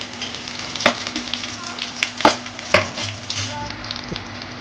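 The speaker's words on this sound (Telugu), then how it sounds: "ఎరగడ్డ వేగింది" Chopped onions fry in a pan for a home-style country chicken curry, sizzling steadily up close with occasional sharper crackles and spatters.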